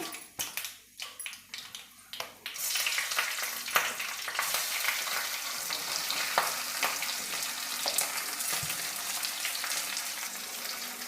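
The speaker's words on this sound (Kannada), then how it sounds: "ಈಗ ಒಂದು ಕಾಲು ಭಾಗದಷ್ಟು ಈರುಳ್ಳಿ ಇದೆಲ್ಲ ಫ್ರೈ ಆಗಿದೆ" Onions, dried and green chillies and crushed garlic hit hot oil for a sambar, with a few stirring clatters at first, then a continuous loud sizzle that holds steady throughout.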